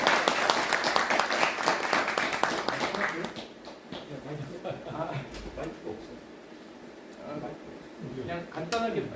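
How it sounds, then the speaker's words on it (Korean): An audience claps at a Korean book concert, a dense, close burst of applause for the first few seconds that thins into scattered claps under talking. "박수"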